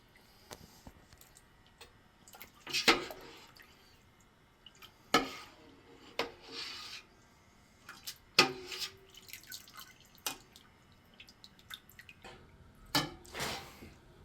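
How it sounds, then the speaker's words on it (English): Melting candy drips slowly and irregularly in a quiet space while making candy hooch, with scattered soft drops and small clicks, a few louder splats standing out against near silence. "Starting to drip a little, you can see."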